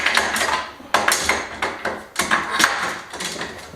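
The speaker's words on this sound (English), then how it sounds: "Put the clamps away." Metal clamps are handled and put away during a rustic door and stone wall renovation, giving a series of sharp clanks and knocks in uneven clusters, close and fairly loud.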